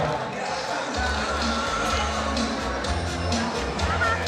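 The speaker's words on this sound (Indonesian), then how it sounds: "boleh kita tepuk tangan yang paling meriah" Clapping from an audience at a DPRD plenary session marking the Ogan Ilir anniversary, a dense, steady patter of many hands filling the room with a low hum beneath, running throughout.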